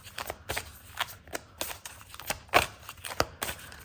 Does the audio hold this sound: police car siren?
no